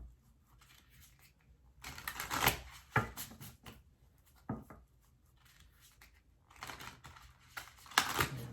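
Tarot cards are shuffled close by in several quick riffling bursts separated by short pauses, soft and papery, with no talking.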